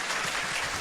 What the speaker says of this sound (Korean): 저희가 이제 박수 한번 하시죠.